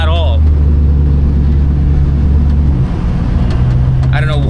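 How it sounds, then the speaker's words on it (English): A car engine runs at a car meet with a knocking fault. It idles loudly and steadily, with a rough pulsing underneath and brief voice-like sounds at the start and end. "That knock does not sound good at all."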